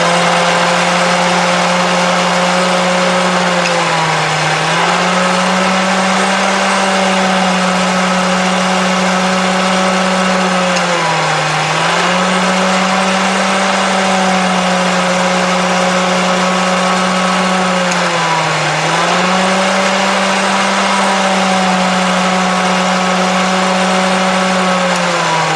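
An American Flyer toy train oil drum loader accessory runs close by, giving a loud, steady electric motor hum with a strong low drone and a slight pitch dip every seven seconds or so, continuous throughout with no talk.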